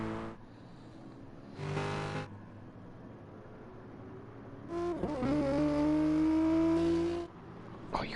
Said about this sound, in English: Oh, you gotta love the noise that car makes.